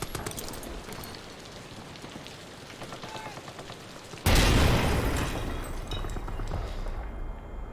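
A grenade goes off in Amnesia: The Bunker with a sudden loud boom partway through, after a quieter crackling bed, and the noisy rumble of the blast trails off slowly afterward.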